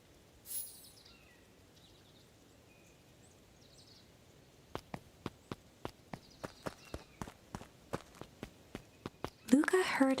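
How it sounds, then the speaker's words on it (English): Footsteps of a group in the Beacon Pines video game, arriving as a brisk run of about fifteen sharp, evenly spaced steps that grow more crowded, with a faint bird chirp before them and a rustling burst at the end. "Luca heard a group of footsteps approaching."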